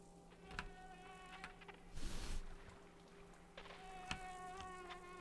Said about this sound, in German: Hallo, Mücke oder Fliege oder was auch immer du bist oder Wespe oder.